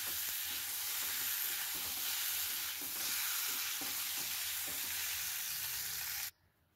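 Pieces of pangas fish fry in hot oil in a pan, a dense, steady sizzle close by with faint scraping stirs, running for about six seconds before stopping suddenly.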